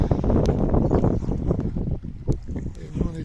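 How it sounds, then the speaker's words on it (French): Steady wind buffeting the microphone on a deserted beach in Turkey, a broad rumbling roar with gusts that rise and dip, and a voice faintly underneath. "Il y a pas mal de vent."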